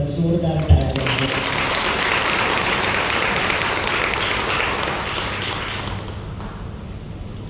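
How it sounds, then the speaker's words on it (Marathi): An audience at a historian's public lecture bursts into loud, sustained clapping that fills the room, starting abruptly and holding steady for several seconds before slowly thinning out. "त्याबद्दल आपण या सगळ्यांसाठी एकदा जोरदार टाळ्या वाजवूया"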